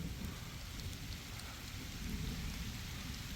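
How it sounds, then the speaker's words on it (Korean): Heavy rain pours down steadily during a summer bass-fishing outing in Gyeongsan–Yeongcheon, South Korea, a dense, continuous hiss of drops drumming on surfaces, with no voices and no breaks across the stretch. "엄청 쏟아집니다 비."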